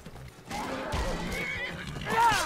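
A horse whinnies in the video game Skyrim, a clear close neigh rising near the end over steady in-game ambience, with a hint of clip-clopping hooves.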